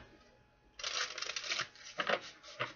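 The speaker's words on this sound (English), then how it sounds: "Alright, one more shuffle." A deck of tarot cards is riffled and bridged in several quick bursts of crisp fluttering, close by, with short pauses between.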